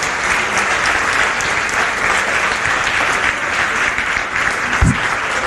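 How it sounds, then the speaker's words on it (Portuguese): A church congregation at a morning seminar claps steadily and loudly, a dense continuous round of applause with a single brief thump near the end. "Você pode dar uma salva de palmas ao Senhor?"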